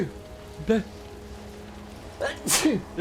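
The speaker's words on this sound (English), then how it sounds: "I'm going to sneeze as well." Two short, sharp sneezes a couple of seconds apart over quiet background noise, the second louder and more forceful.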